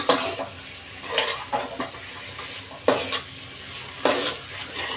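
Mutton sizzling in oil with masala in a pan, a steady fry punctuated by repeated scraping stirs of a utensil against the pot.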